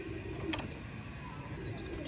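Wild-type pigeons cooing inside a pigeon loft, low murmuring coos over a constant hum, quiet and distant, with a couple of brief clicks and no talk.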